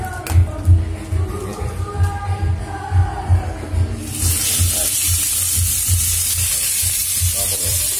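Beef dropped into very hot vegetable oil in a pan on an electric stove: after a few seconds of quieter handling, a loud, sustained, close sizzle crackles steadily to the end.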